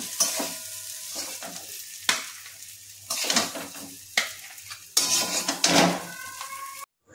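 Potato filling for aloo paratha scooped from a pan into a bowl, with repeated scraping and clattering strokes of a spoon against metal over a faint sizzle and no talking.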